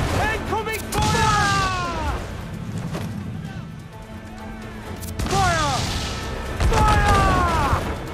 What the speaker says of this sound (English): I love this cannon thing, it does so much damage